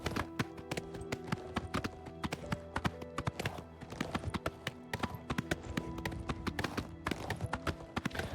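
Horse hooves clip-clopping in the video game The Elder Scrolls IV: Oblivion, a quick steady run of sharp close hoofbeats carrying on throughout with game ambience underneath.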